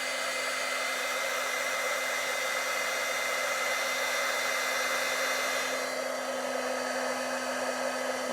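A heat tool blows steadily as it melts shimmer embossing powder. The hot-air roar is loud, close and continuous, with a constant electric hum running under it and no voices.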